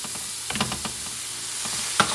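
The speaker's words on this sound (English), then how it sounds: "I like green beans, so I'm going to add them now. And I'm going to add the sofrito." Sofrito and green beans sizzle in a hot pan, ahead of bomba rice for a wild boar picadillo. The frying hiss is steady and close, broken by a few scraping stirs and a sharp clink of a utensil at the end.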